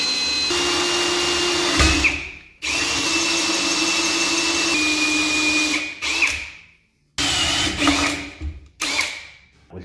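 A power drill whines loudly in several long bursts, stopping and restarting with brief silent gaps, the pitch steady as it bores a tap hole through a hard basin.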